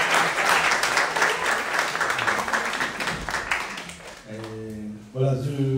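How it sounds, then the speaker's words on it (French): A church congregation applauds newcomers attending for the first time, sustained clapping filling the room for several seconds, then fading as music or voices come in near the end. "On peut applaudir nos sœurs qui sont là pour la première fois."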